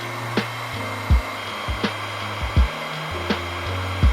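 A heat gun warms a screw to 150–200 °C for 10–20 seconds before removal on an Endeavor 2 Pro board's VESC controller. A steady close blowing hiss runs throughout, with a low hum and repeated sharp clicks.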